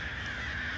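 A crow gives a single harsh caw in the horror video game FNAF Special Delivery. It is loud, close and stands alone, with no talking over it.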